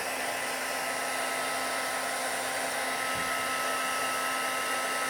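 Heat embossing tool blowing steadily to melt embossing powder on a stamped card, a continuous loud whirring hum with a fixed tone that runs unbroken throughout, no talking.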